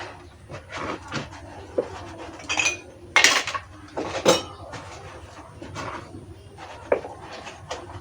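Plates and cutlery clink and clatter while dishes are washed outdoors: scattered sharp clanks and knocks, a couple of loud ones, over a low steady background with no voices.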